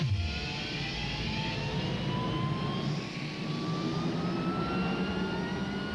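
A jet airliner roars past in a Southwest Airlines advert, a steady, full engine rumble with a faintly rising whine sustained throughout and no talking.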